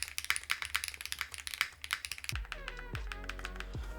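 An Evo80 mechanical keyboard typed on at close range: a quick, uneven run of crisp clacks and taps, then a few slower, deeper key strikes that ring briefly, with no voices.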